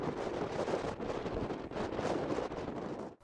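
Strong wind gusting across an exposed hilltop on Mount Kythnos, Delos island, Greece, roaring steadily and buffeting the microphone with loud, continuous rumble throughout.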